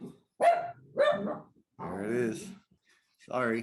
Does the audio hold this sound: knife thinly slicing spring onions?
no